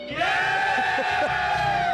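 Nepal cricket fans in the stands at a match, a large crowd roaring and chanting together in a loud, sustained wall of voices with a strong sung or shouted tone carried above the din, some speech mixed in.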